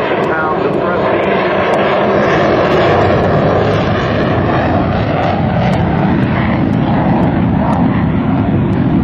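An F/A-18C Hornet at the NAS Oceana airshow climbs out at full throttle after raising gear, flaps and tail hook, giving a loud, sustained jet roar that fills the whole stretch with a few crackling pops.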